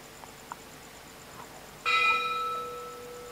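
A Thai temple bell at a wat is struck once at night, a loud ringing strike whose bright metallic tone hangs and slowly decays after a few faint earlier knocks.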